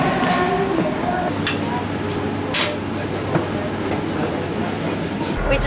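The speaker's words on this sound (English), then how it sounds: "We're in a train to Oranienburg," Steady rumble and rattle of a train carriage in motion on a ride to Oranienburg near Berlin, with continuous low drone, faint clicks and brief higher squeaks throughout.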